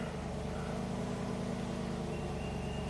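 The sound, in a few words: Cadillac Allante Northstar V8 engine idling after restart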